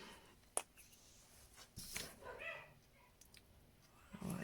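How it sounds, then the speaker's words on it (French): Dogs bark somewhere nearby in a quiet room, a few scattered yips and barks at a moderate distance, with faint household noise between them. "J'ai mes chiens qui aboient"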